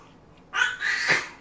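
A single sudden sneeze bursts out, loud and close, lasting under a second after a brief quiet lead-in.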